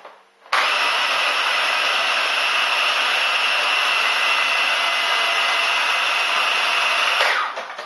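A food processor blending pesto with oil and nuts starts abruptly, holds a loud, even whirring drone for about seven seconds, then winds down at the end.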